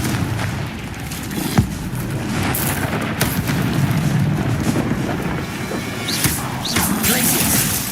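A Confringo blasting spell strikes in Hogwarts Legacy combat, producing a few sharp crashing impacts spaced a few seconds apart over a constant windy, rumbling background with faint voices.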